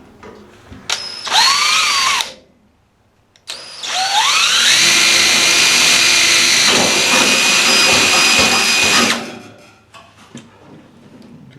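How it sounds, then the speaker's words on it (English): A power drill whines up in a short burst, pauses, then spins up again and grinds loudly through sheet metal for several seconds before winding down. "So you got to use the appropriate size drill bit for it."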